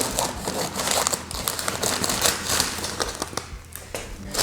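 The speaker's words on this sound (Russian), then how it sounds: "аккуратненько обрезать ножницами." Scissors cutting open a bag of plaster, with crisp crinkling and snipping of the stiff bag material in quick irregular bursts, close up and fairly loud, with no voice.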